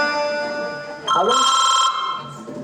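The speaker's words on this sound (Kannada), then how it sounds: "ಲೇ ಮೂರಬಟ್ಟಿ, ಬೇಗ ಪೊಲೀಸರಿಗೆ ಫೋನ್ ಮಾಡು." A telephone rings as a call is placed to the police in a Kannada stage drama, a loud, steady electronic ring lasting under a second over a sustained musical drone.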